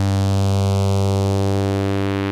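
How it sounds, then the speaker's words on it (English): A dense, sustained synthesizer chord made of many stacked oscillators, thick and lush with a slow sweeping phasing shimmer, steady and loud throughout. "So it gives us a really thick and lush sounding phasing effect."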